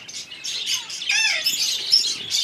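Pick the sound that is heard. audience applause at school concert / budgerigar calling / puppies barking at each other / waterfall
budgerigar calling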